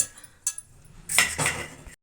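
Fried coriander seeds tipped onto a plate: a brief clink near the start, then a soft scraping rattle of utensil on dish, close and alone.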